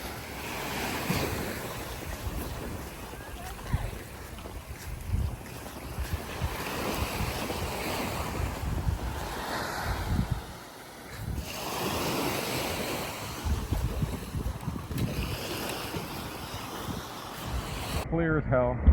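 Surf washing in and wind buffeting at Governor's Beach on Grand Turk, a white-sand shore with clear water, steady rolling waves and gusty wind noise across the microphone.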